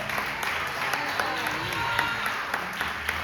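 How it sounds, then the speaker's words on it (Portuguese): A church congregation claps together during a sermon, rhythmic clapping from the crowd with some accented beats, mixed with voices and a steady room background. "As palmas glorificam o nome do Senhor"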